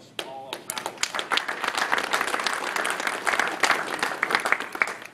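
An audience at a dealership award ceremony breaks into applause, dense continuous clapping near and loud after a brief quiet start, holding steady with scattered sharper individual claps.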